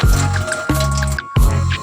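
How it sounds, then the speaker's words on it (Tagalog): Sliced bitter gourd (ampalaya) being soaked in water makes wet squishing and dripping sounds in three close, fairly loud bursts, each tapering off before the next. "Bababadan naman natin siya sa tubig."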